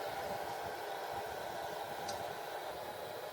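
Small cooling fan running steadily inside a cheap homemade solar-panel battery backup box, a constant broadband whir with no talk.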